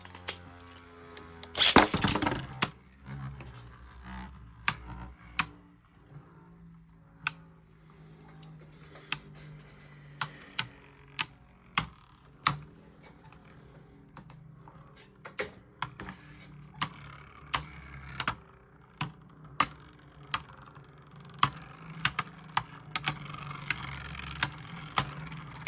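Hasbro Beyblade Burst spinning tops, including Black Valtryek V2, launched into a plastic stadium: one loud launch rip, then a steady spinning whir punctuated by sharp, irregular clacks as the tops collide, with no talking.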